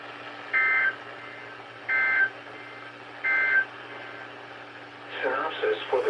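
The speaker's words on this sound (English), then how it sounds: "this has been a test of the NOAA weather radio warning alarm and EAS signal" Three short, evenly spaced buzzy data bursts from a NOAA weather radio EAS alarm signal sound over a quiet broadcast hum, followed by a voice beginning to speak.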